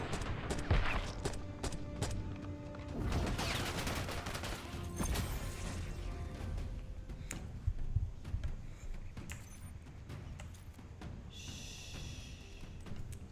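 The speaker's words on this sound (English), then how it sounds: "Find cover! Sniper firing!" Bursts of gunfire ring out in a war video game, sharp reports scattered through dense, loud battlefield noise with repeated cracks and a heavy mid-clip volley.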